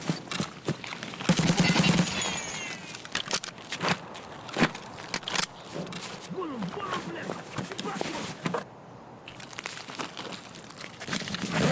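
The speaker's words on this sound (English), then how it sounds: "they're shooting at me" Gunfire rattles around the player during a video game raid on the Customs map: sharp shots and bursts come repeatedly over a steady noisy game backdrop, some loud and close, others more distant, with a voice at times.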